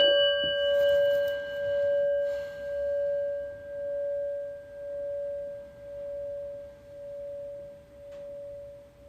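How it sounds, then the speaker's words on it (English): A prayer bell rings with a steady pure tone that swells and fades in slow, regular pulses, sustained and resonant for several seconds in a quiet setting with no voices. "let's get a little like relaxation listening to the prayer bell"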